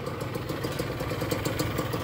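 A revived Yamaha engine, fitted in a 1968 Volkswagen Beetle, runs at a fast steady idle with a loud, close, rhythmic clattering pulse and no voices over it.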